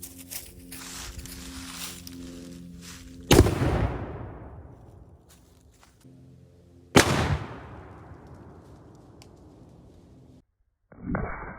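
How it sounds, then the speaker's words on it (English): A cannon firing stone cannonballs at a car door booms twice, each sharp blast followed by a long fading rumble, over quiet outdoor background with a softer sound at the end. "So let's go ahead and touch this cannon off and see what happens."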